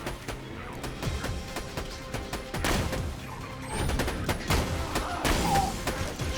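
Gunfire rattles through a Borderlands 2 firefight, repeated sharp shots and bursts with scattered impacts and thuds, fairly close and busy throughout.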